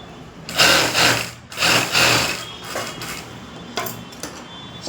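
Sewing machine running bursts of stitching along the raw lining margin of a blouse, two long loud runs followed by shorter, fainter stops and starts, with no talking.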